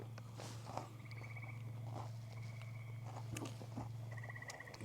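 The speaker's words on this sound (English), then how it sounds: "We're listening to the crickets." Crickets at night at a car camping site, short repeated high trilling chirps in bursts over a steady low hum, fairly faint with no talk.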